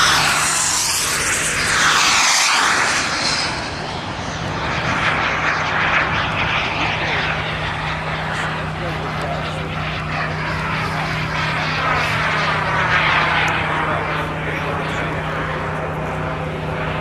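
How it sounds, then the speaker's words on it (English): Big gray radio-controlled scale F9F Cougar jet model flying low overhead in a tight circle, a loud continuous turbine whine and roar that sweeps in pitch as it passes, with a commentator talking over it. "Thomas Gleisner really down on the deck with a nice tight 360 with the big gray F9F Cougar."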